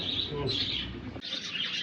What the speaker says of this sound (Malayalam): കിളികളൊക്കെ അങ്ങനെ ഉഷാറായിട്ട്